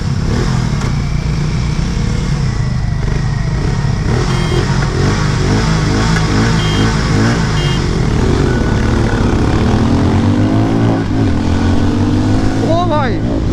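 A Hero Mavrick 440 and a Harley-Davidson X440 drag race on a highway, their loud engines roaring and revving close by as gears shift and pitch rises, with the rider's voice faintly underneath.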